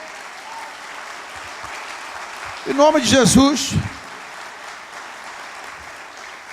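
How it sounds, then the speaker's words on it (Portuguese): Church congregation applauding: a continuous wash of clapping from a crowd throughout, with a voice briefly speaking over it in the middle. "Pode aplaudir de novo."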